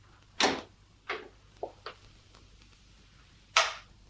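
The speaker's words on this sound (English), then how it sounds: "and then the door opened" A door opening as a radio drama sound effect: several short sharp creaks and knocks in quick succession, then a pause and one more loud creak, close and clear with no talking.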